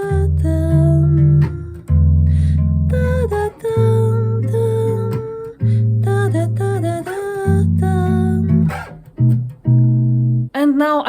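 Bass guitar chords for a song ring out in a slow sequence, each low chord sustained for about a second before the next, clear and close with no talking.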